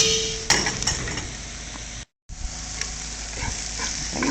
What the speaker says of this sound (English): Onions are almost done.